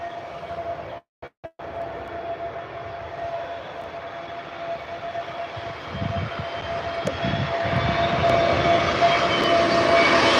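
An EasyJet Airbus A321 lands at Birmingham Airport, engine whine and rumble building steadily louder toward the end after a few brief dropouts near the start.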